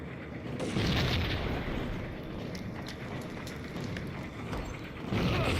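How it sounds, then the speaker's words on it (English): Explosive barrels in the PC game Max Payne go off under gunfire, giving loud booming blasts at the start and end with rumbling, crackling debris between. "Blow up these barrels as well"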